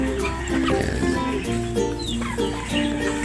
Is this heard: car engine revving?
no